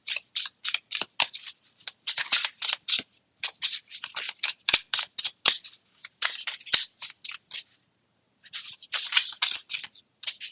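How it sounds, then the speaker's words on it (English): Tarot cards being shuffled up close, a rapid run of crisp riffling snaps and flutters in quick bursts with a short pause before a final flurry, no voices. "The microphone doesn't like the shuffling of cards."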